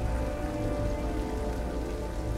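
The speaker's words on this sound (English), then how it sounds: "What, the rain?" Steady heavy rain pours down in the video game Beyond Two Souls, a dense, loud, continuous hiss of drops on surfaces with no voices over it.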